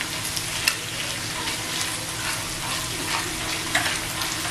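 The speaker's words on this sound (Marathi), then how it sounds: "हे छान असं 1-2-3 मिनिटं फ्राय करून घ्यायचं." Ginger, garlic and green chilli paste sizzles and crackles steadily in a hot pan for a chicken liver masala fry, close and continuous with occasional stirring clinks and no talk.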